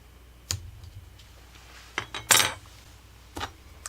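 A metal palette knife clinks and taps against a hard craft surface while stickers are lifted, a few sharp separate clicks with one longer scraping rattle in the middle, close and fairly soft, no voices.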